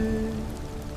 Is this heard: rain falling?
yes